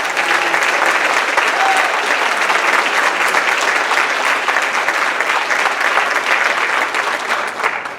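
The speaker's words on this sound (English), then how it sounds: "Let's give one more big round of applause for her." Loud, sustained applause from an audience at a high school senior athletic awards ceremony, steady dense clapping filling the whole stretch without a break.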